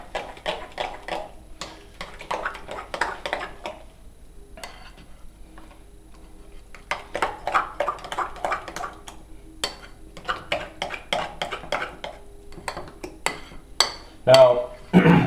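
Beef chili dip stirred in a pot, a spoon scraping and clinking against the sides in uneven bursts, fairly close and moderately loud, with a pause in the middle.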